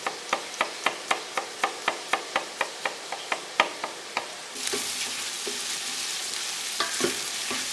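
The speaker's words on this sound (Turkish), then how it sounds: "Soğanlarım bir yandan kavrulurken" A utensil taps rhythmically against a pan about a dozen times, then a loud steady sizzle of onions frying takes over with occasional scraping stirs.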